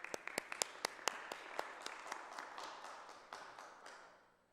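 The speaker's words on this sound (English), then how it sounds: "Can we give them a round of applause again?" Applause after the national anthem, Guam hymn and Inifresi at a session of the Guam Legislature: sparse individual claps building into a modest round from a small audience, fading out over a few seconds.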